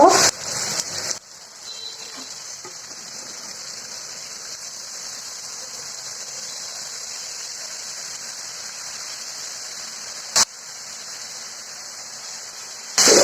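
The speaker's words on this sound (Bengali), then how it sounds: "আমি এখানে আর একটু পানি দিব।" Water is poured into a pan of spiced climbing perch (koi fish) do pyaza curry. It makes a steady, moderately loud splashing rush lasting several seconds, framed by brief louder bursts at the start and end.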